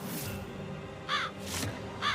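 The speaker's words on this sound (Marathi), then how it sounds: "हे कावळे, हे पक्षी गावात यांचा काहीही उपयोग नाहीये." Crows caw in two loud, harsh bursts about a second apart, standing out clearly over a steady background hum in a village setting with no talking.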